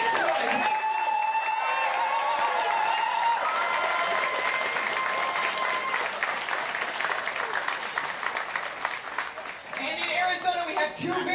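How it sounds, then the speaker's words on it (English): At a FIRST Tech Challenge robotics season kickoff, a crowd applauds and cheers for the program's sponsors, sustained clapping with whoops and shouts on top, swelling again near the end. "So, huge round of applause."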